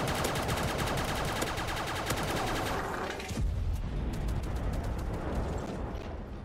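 Gunfire fills the Roblox Base Battles game, with rapid continuous shots crackling loudly. The tone thins partway through, then the barrage continues steadily.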